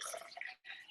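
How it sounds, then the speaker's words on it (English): Water pours into an infuser bottle holding ice, mint and cucumber, a faint, bright, splashing trickle that breaks off briefly and resumes, close and without speech. "let's add some water."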